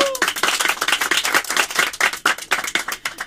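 A small audience claps in a quick, rapid burst of applause on a live radio-style broadcast, sharp hand claps bunched close together, loud and near, lasting a few seconds.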